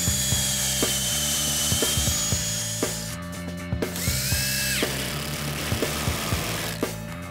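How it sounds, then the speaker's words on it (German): A power drill pre-drills a hole in wood for a screw while a wooden plant planter is built, a close, continuous whine with rattling, clicking bursts and a brief pitch change partway through. "deswegen nehme ich die Schraube und deswegen muss ich einfach vorbohren."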